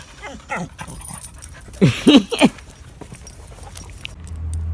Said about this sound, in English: She's a good dog. She's a lap dog.